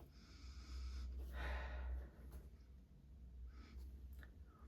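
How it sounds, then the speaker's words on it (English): Close, faint sniffing at a Merrell Thermo Kiruna 2 waterproof boot, checked for odour: a couple of short breathy inhalations, with no talking. "giving it the old sniff test"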